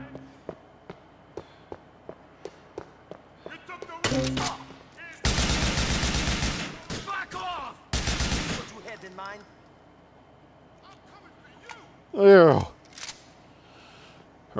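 Grand Theft Auto IV gameplay with bursts of automatic gunfire, two long loud volleys and a shorter one, among footsteps, clicks and other game effects, with a brief sharp sound near the end.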